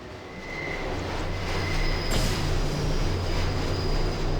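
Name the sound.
metro train running in Deus Ex video game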